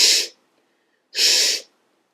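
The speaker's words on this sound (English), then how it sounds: "lean over to the sink and blow out of your nose as hard as possible" Two hard, forceful nose blows over a sink after rinsing with a neti pot, each a loud rushing burst of air about a third of a second long, separated by silence.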